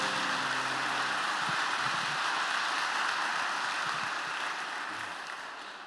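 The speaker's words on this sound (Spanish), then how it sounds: "Fuerte ese aplauso al Señor Jesucristo en esta mañana" Dense, steady applause from a large church congregation, sustained throughout and tapering slightly at the end, with no talking over it.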